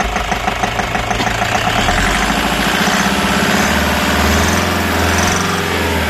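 A rough-running, smoky Toyota 1KD diesel engine idles steadily up close, a dense continuous rumble with a faint knocking tick running through it and no talk.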